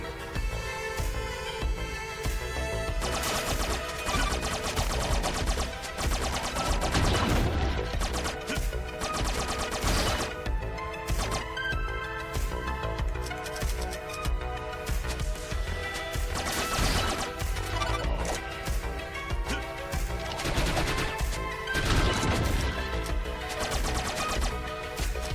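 Gunfire and impact crashes in The Mummy Demastered, a retro side-scrolling shooter: dense, rapid bursts of shots and smashes over a continuous game soundtrack, loud and busy throughout.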